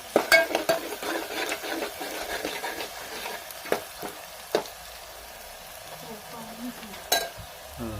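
Ginger crackling in hot oil in a pan as an onion curry begins: soft, uneven sizzle with scattered pops and a few scraping stirs, fairly quiet and without voices.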